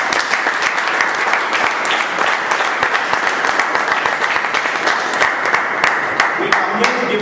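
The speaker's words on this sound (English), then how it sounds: "I would like all of you to give Dipankar a big round of applause." Sustained audience applause at a speech event, dense steady clapping from a large crowd filling the whole stretch, loud and continuous with faint voices beneath.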